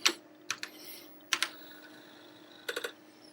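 Keys are pressed on an Apple IIe computer keyboard in a few short clusters of clicky taps, close and fairly quiet, over a faint steady hum.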